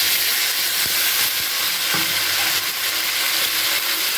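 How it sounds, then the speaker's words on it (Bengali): Tomato, ginger and green chilli paste frying in hot oil with cauliflower and potato for a rohu fish curry, a loud, steady hiss and sizzle with a few soft stirring knocks. "এবার আমি টমেটো আদা আর কাঁচা লঙ্কার পেস্ট এর মধ্যে দিয়ে দিলাম।"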